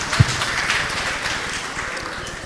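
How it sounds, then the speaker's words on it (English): Conference audience applause, a steady wash of many hands clapping at moderate loudness with no voices over it. "Let's clap our hands."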